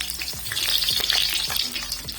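Tomatoes frying in hot ghee for an aloo bhujia potato curry: a close, continuous crackling sizzle with soft stirring scrapes running throughout.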